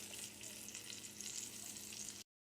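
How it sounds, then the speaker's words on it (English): Chicken pieces fry in a pan, two at a time, for a Tuscan-style creamy chicken. A steady, close sizzle runs unbroken before cutting off abruptly near the end. "So I'm going to let these fry up"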